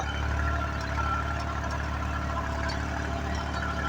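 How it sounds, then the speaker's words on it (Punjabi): A tractor engine runs steadily in a field during wheat sowing with a harrow, its low droning hum constant and fairly close, with no talk over it. "ਟਰੈਕਟਰ ਵੀ ਬਹੁਤ ਰੈਲਾ ਚੱਲ ਰਿਹਾ"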